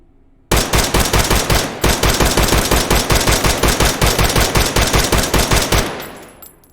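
Rapid bursts of 7.62x39 gunfire from an AR-15 in a video game, a steady fast string of loud, close shots for about five seconds, ending in a decaying tail, with no talk.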